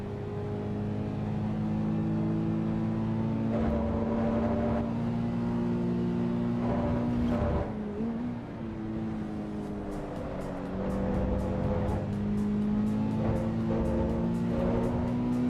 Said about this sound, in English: It sounds like a rubbish road car engine.